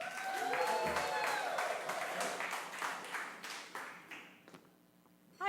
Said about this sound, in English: Keep clapping for Kim Weaver.